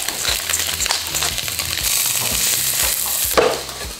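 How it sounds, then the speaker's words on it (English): Tofu slices frying in oil, a steady crackling sizzle with intermittent scraping and stirring clatter from the pan, close up and without talk. "I will fry them in some oil until golden brown"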